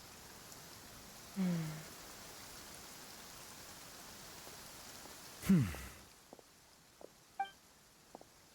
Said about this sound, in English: That Nivelet, he's standing alone in the rain.